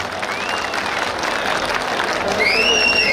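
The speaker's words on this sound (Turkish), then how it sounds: "için büyük bir alkış alalım lütfen" A crowd at a Turkish aba wrestling championship in Hatay gives the wrestlers sustained applause, a dense, steady wash of clapping with some background chatter and a few whistles near the end.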